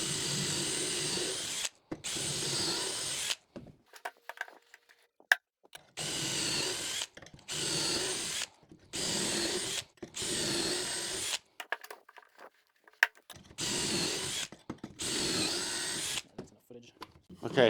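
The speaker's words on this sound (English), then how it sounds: "I'm going to put pocket holes in because when this thing is done, you're not going to see any screws anywhere" Power drill bores pocket holes into wooden bench boards in repeated bursts of one to two seconds, each a loud close whine separated by short pauses and clicks.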